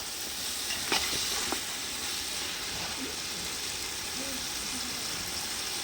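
Mutton frying in a pan for biryani gives a steady, close, dense sizzle with a few clinks of stirring early on, and no one talks.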